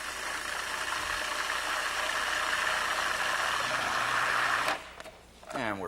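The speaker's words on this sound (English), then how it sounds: "You can do this in a food processor or a blender." A food processor or blender purees raspberries with a steady, loud whirring motor drone that cuts off near the end, followed by brief handling noises.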